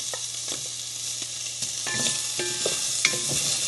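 A spoon scrapes and clinks as mung bean stew with fish is stirred in a pan. Irregular knocks sit over a constant soft sizzle, with no talking.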